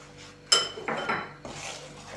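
A few clinks and scrapes of a utensil against a bowl, close by, in short bursts with quiet gaps, while stirring flour, cornstarch and baking soda for cottage cheese pancakes.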